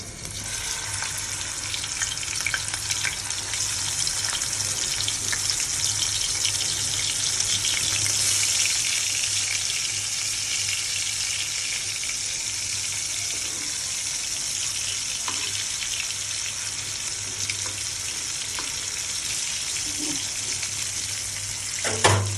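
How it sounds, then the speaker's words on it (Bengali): Hilsa fish frying in a pan gives a loud, steady hiss and sizzle throughout, with a constant low hum beneath it and a few faint clinks near the end. "এখন গরম ভাত রান্না করছি আর তার সাথে এখন আমি ইলিশ ভাজবো।"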